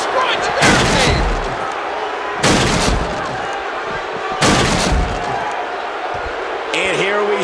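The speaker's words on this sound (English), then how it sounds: "they destroyed the barricade" Three heavy crashes as a barricade is smashed in the wrestling game WWE 2K15, evenly spaced booming impacts over steady arena crowd noise, with a commentator talking throughout.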